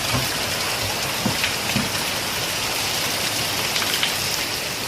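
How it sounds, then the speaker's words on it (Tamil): Steady, heavy rain pours down on a surface outdoors, a dense continuous hiss with scattered louder drops, close and even throughout, with no voices. "இன்றைக்கி மழை பெய்யுது"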